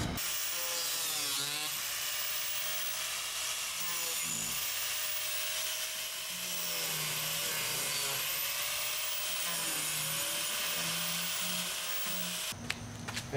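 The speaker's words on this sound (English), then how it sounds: "And then I will use my grinder underneath and cut" Angle grinder cutting a piece during a house renovation, a loud, sustained abrasive whine with shifting pitch as the disc bites and eases, running steadily with no talk and cutting off near the end.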